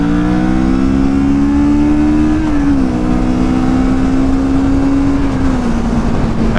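A Kawasaki Vulcan 650 motorcycle accelerates hard, its engine note climbing steadily through the gears, with brief pitch drops at shifts, loud and close over constant wind roar.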